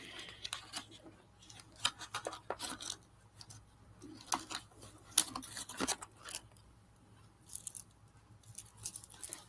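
Scissors repeatedly snipping art journal paper up close, a rapid irregular series of sharp cuts with brief pauses, quiet room, no talk.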